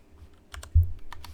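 Typing a command into a Linux terminal on a computer keyboard: a short run of crisp key clicks, close and clear, with one heavier thump partway through.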